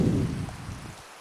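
Rain falls in the video game Minecraft, a dense, close patter of drops that fades away toward the end as the shower stops.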